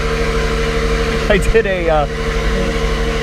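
An Acura NSX idles in Sport Plus mode inside a garage, a steady droning engine and fan hum heard under a man's speech.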